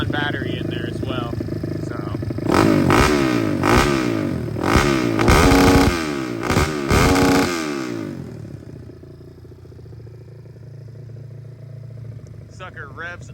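A pit bike engine is revved hard several times in quick succession, each sharp rise falling off fast, loud and close, then settling to a quieter idle; someone talks over parts of it.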